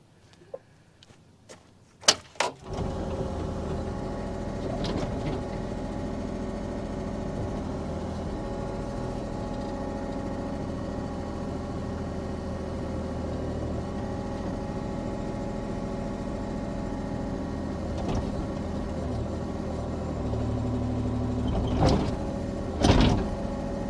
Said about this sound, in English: we're going to try and rip out a tree stump.